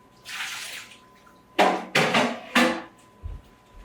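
Water is poured off a baked pumpkin crème brûlée custard: a soft trickling pour comes first, then three louder splashing gushes in quick succession, ending with a low thud. No one speaks.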